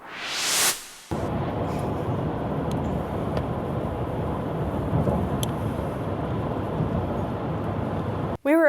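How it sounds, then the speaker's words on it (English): A thunderstorm bears down on the woods: a rising rumble swells and cuts off, then steady broadband roar of wind and rain with faint distant rumbles continues throughout, loud and close. "a storm was bearing down on us"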